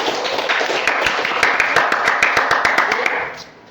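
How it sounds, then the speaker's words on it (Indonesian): Students in a classroom clap for a classmate during a micro-teaching lesson, a steady patter of many hands that holds for about three seconds and then fades out quickly. "Kita beri tepuk tangan kepada Surya."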